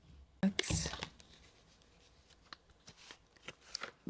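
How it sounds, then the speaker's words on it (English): Playing cards shuffled and pulled from a deck in a quiet room, a loud riffle burst near the start followed by soft scattered flicks and taps of cards being drawn. "let me pull some cards just to close this off"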